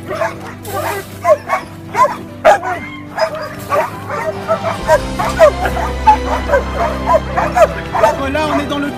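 Dog at an SPA animal shelter barking and yipping in a repeated, close, loud series, with whimpering yips between, while a person talks over it.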